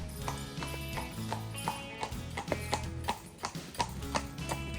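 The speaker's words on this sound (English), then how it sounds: "You can take a horse-drawn carriage like these people." Hooves of a carriage horse on the path around Muckross Lake clip-clop in a steady, even trot, a continuous backdrop of murmur and mixed sound underneath the sharp regular hoof strikes.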